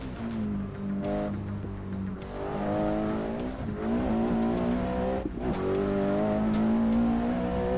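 A racing car in the Assetto Corsa driving game accelerates through repeated gear shifts, its engine note climbing and dropping in loud rising sweeps, with tire squeal mixed in and no talk.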